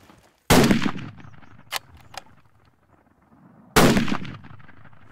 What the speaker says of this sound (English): Now I want you to fire 2 shots.